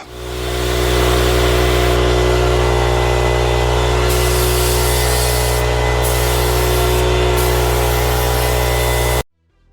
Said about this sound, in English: let's put some masking on that and spray it with some primer.